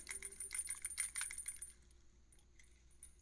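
Small jingle bell ornaments, Christmas decorations, jingling in a bright, close, metallic shimmer for about a second and a half, then settling into a few faint, scattered tinkles.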